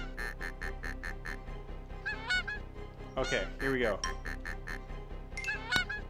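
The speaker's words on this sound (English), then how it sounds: "When you compete in a real tournament, there will be even more geese." Geese in the golf game Golf Story honk in rapid, repeated cackling bursts, loud and continuous over a rhythmic musical backing, while someone briefly speaks in the middle.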